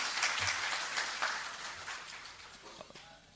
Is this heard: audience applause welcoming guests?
yes